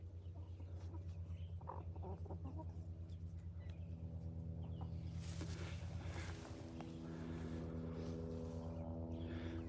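Hens and roosters in a backyard garden flock of about sixteen chickens cluck faintly and sporadically, set against a steady low droning hum that runs throughout.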